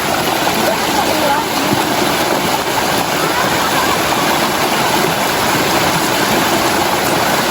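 Continuous rushing water from a cold forest stream fills the scene, a dense, even wash of sound close by, with faint talk mixed in.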